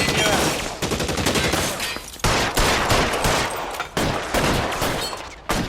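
Loud, rapid gunshots in the L.A. Noire police game come in dense bursts broken by short pauses, with a voice faintly mixed under the shooting.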